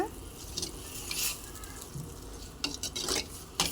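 Spoon stirring a tomato pickle mixture in a pan after a spoonful of salt goes in, soft scraping and faint sizzling with a few louder clinks of the utensil against the pan near the end.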